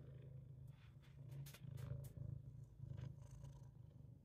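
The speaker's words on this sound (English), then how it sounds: "Can you hear him purring?" A close, low, rumbling purr with a steady rhythmic pulse, rising and falling with each breath, with a few faint soft noises over it.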